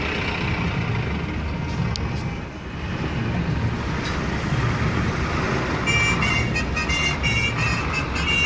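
Busy road traffic passes a Tamil Nadu check post, with a steady close rumble of cars, buses and trucks and a few short horn toots near the end; no one speaks.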